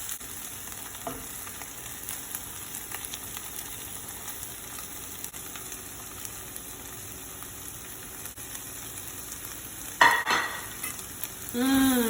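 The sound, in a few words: curry powder sizzling in sauteed onions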